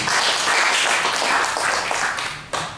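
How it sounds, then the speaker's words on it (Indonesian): A congregation in a Sunday church service claps in a sustained, lively round of applause, steady and fairly close, tapering slightly before a final sharp sound. "Beri tepuk tangan yang meriah buat Tuhan kita"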